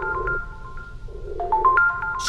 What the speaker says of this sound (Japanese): なんか電話来てる、電話来てる